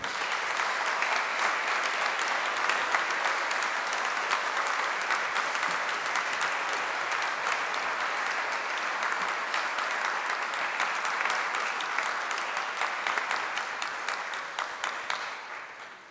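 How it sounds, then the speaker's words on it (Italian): Sustained, even applause from a seated audience at an honorary doctorate ceremony for a surgeon, steady and moderately distant for about fifteen seconds before tapering off at the end. "ancora un applauso."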